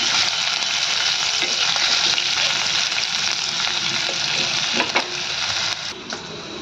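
Onions fry in hot oil in a pan until lightly browned. A dense, steady sizzle runs loud and close throughout, and a few stirring scrapes break through near the end.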